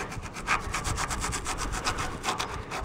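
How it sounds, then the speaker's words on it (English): A bent, broken hacksaw blade saws in quick, even back-and-forth strokes, a rhythmic rasping that is fairly faint and close, with no voices. "Only hacksaw blade I have, and it's bent and broken."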